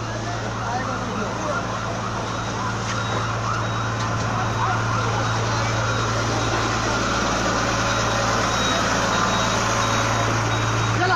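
A fire truck turns around and comes back through a crowded market fire scene in Khilgaon, Dhaka, its steady tonal siren or warning tone droning under loud crowd noise and engine rumble.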